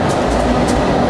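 A passing train makes a steady, dense rumble and rush that fills the whole moment without a break, loud and close, with no voices over it.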